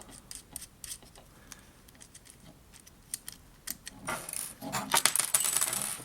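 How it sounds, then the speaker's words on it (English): Small plastic spacers dropping onto a hard surface while a large-scale BBC micro:bit is taken apart, a burst of light clicks and skittering rattles that grows denser toward the end. "Oops, there go all my spacers."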